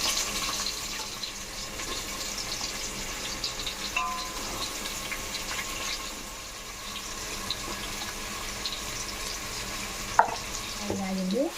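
Onions and green chilies frying in oil in a pan for chicken curry, with a steady sizzle, occasional stirring scrapes and a brief clink near the end.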